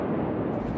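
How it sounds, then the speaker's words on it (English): Brief, loud, dense rumbling roar of a massive explosion at an ammonium nitrate fire, a thick broadband blast heard alone. "A massive explosion."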